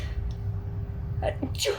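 One sharp sneeze bursts out near the end, after a stretch of quiet room hum.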